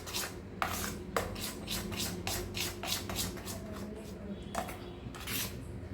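Idli batter of rice flour and semolina being stirred in a bowl, a steady run of scraping strokes against the bowl at an even rhythm, close and moderately loud, with no talk.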